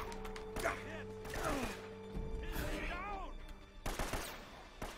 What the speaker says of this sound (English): I'm getting shot from every angle here.